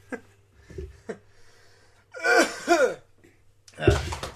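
A few short throat-clearing grunts, then two louder, rough rasping clears of the throat close by, ending with another harsh burst.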